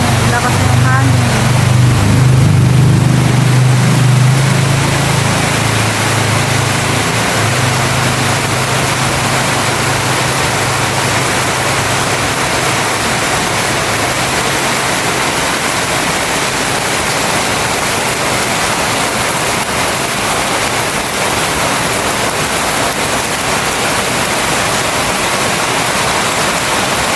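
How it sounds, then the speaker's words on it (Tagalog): Strong typhoon wind roars in Leyte, with a loud low rumbling gust at the start easing into a steady, dense rushing roar mixed with heavy rain for the rest of the clip. "Hangin. Lakas na ng hangin."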